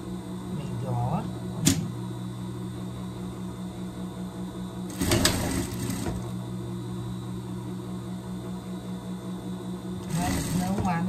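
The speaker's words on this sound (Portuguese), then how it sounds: "eu vou prespontar aqui e bater essa costura aqui para dar um acabamento" Domestic sewing machine topstitching a seam on a pet dress, a steady mechanical whirr running through most of the stretch with a few louder handling knocks, and a voice talking over it.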